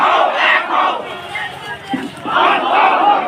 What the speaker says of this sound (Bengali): শত শত মুসল্লি আজকে সবাই মুসলমানদের জন্য স্লোগান দিতেছে